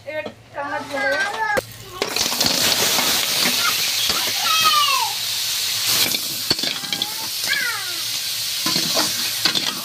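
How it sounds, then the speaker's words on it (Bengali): Large river crab hits hot oil seasoned with salt and turmeric in a Sundarbans home kitchen, a steady close-up sizzle and hiss that swells as it settles, with voices talking over the frying. "হ্যাঁ, এবার কাঁকড়া ধরে দেবো।"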